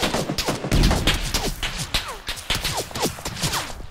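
Rapid gunfire in the PUBG battle royale game, dense overlapping shots cracking in quick bursts with a heavy impact early on, continuous and close throughout.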